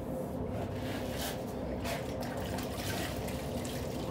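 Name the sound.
water squeezed out of a grout sponge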